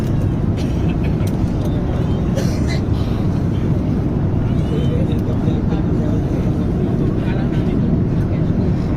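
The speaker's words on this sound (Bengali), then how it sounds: "প্রচণ্ড টার্বুলেন্সের শিকার প্লেনটা অনেক কাঁপাকাপি করতেছে" Inside the cabin of a US-Bangla Airlines Airbus A330 on the Dhaka to Malaysia route, heavy turbulence brings a loud, constant engine and airframe roar with rattling and shaking.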